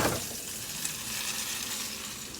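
Onions fry in oil in a pan, cooked until burned, giving a steady, close, bubbling sizzle that holds evenly through the short stretch without any voices.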